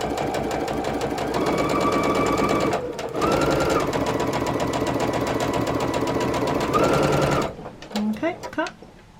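A sewing machine stitches jelly roll quilt fabric for a table runner, its rapid mechanical chatter running steadily in two long stretches with a brief pause between, then stopping as a few clicks and handling noises follow.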